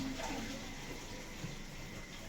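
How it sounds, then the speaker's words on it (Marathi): Water is poured in a low, continuous stream while a system is being filled, making a faint, steady gushing with no voices. "आता पण टाकते थोडं पाणी"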